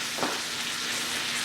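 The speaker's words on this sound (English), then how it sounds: "you hear it sizzling?" A cowboy ribeye steak sizzles steadily in its own juices, a continuous close, moderately loud frying hiss with a brief crackle near the start and no talking.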